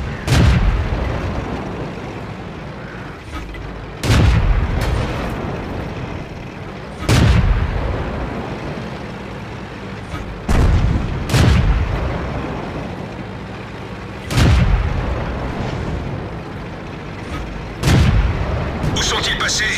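Tank cannon fire in the World of Tanks video game, six or seven loud booming shots spaced a few seconds apart, each with a rumbling tail, over a steady engine-like background.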